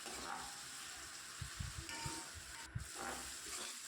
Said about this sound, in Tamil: ரெண்டு பச்சை மிளகாவை சைடில் கீறி வச்சுருக்கேன் அதையும் சேர்த்து நல்லா வதக்கி விட்டுக்கலாம்